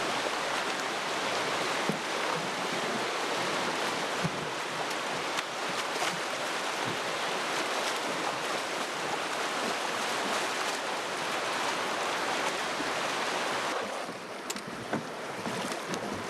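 Loud, continuous rushing water of a rough river current churns steadily throughout, a rough turbulent current close by, easing slightly near the end.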